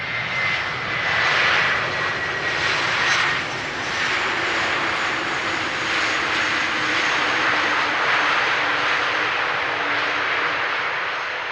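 An Airbus A330 jet airliner landing on runway 18R at Amsterdam Schiphol gives a sustained, loud engine roar and rushing whine that rises and then holds steady throughout, heard at a moderate distance with no voices.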